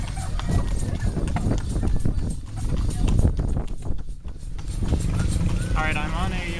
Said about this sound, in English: I'm on a horse taxi here.